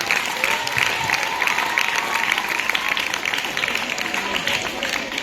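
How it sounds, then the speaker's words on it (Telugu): A crowded audience at a tenth-class career guidance talk claps loudly and steadily for an honoured guest, a thick, continuous wash of applause with crowd noise underneath lasting the whole stretch. "give a big claps to Mutyalaraju గారు"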